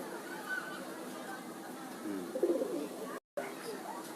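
Pigeons in a loft give a soft low coo around the middle of the stretch, set against steady outdoor background noise, with people talking nearby.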